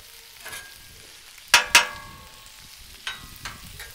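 Smashed burgers sizzling on an outdoor Blackstone griddle, a low steady sizzle with two sharp, loud spatula scrapes and clanks close together as the patties are flipped, then a few softer taps.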